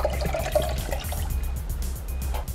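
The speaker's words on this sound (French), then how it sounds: "je vais verser le contenu, l'eau de coco," Coconut water is poured from a fresh coconut into a container, a steady gurgling, splashing stream with small trickles, close and moderately loud for a couple of seconds.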